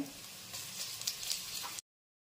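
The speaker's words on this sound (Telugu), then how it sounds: "ఆ పచ్చివాసన పోయినంత వరకు ఇలా ఫ్రై చేసుకోవాలి" Onions, green chilies and ginger-garlic paste frying in a pan for chicken curry, giving a steady close sizzle with a few louder crackles, alone without talk, cutting off abruptly.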